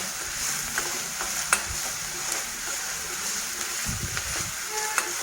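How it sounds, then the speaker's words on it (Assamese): Crushed garlic and ginger frying in oil for a fish head bhuna masala, a steady low sizzle with occasional stirring scrapes and soft clinks of a utensil in the pan. "এইখিনিও অকণমান তেলত ভাজি লৈছোঁ।"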